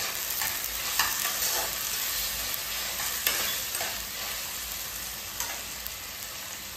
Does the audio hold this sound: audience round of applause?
no